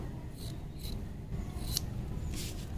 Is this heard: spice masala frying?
no